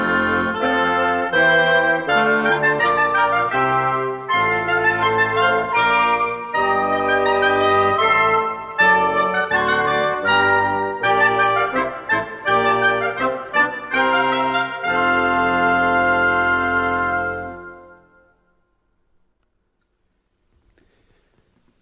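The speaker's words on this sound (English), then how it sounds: "Together, the woodwind section sounds like this." A woodwind section plays together in a children's orchestra demonstration, layering sustained melodic lines and chords for about seventeen seconds before the music ends and silence follows.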